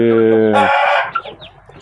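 A chicken gives a loud, close, drawn-out squawking call, followed by a few softer clucks as it trails off.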